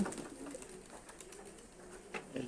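Racing pigeons coo softly at a loft after a 20 km race, giving low, rolling calls that are faint and slightly distant.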